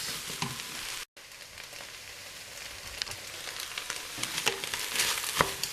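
Vegetables and carrots frying slowly in a pan at lower heat, a soft steady sizzle with scattered crackles and pops, close and moderately quiet, with no talking.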